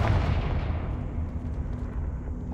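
Confringo fire-spell blast in Hogwarts Legacy: a heavy, booming explosion that hits loud at the start and rumbles away over a couple of seconds, alone without talk.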